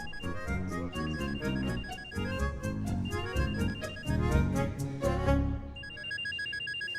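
A mobile phone rings with an incoming call from an unknown number, a loud repeating electronic ringtone pattern of bright beeps played nearby for several seconds, with no talk over it.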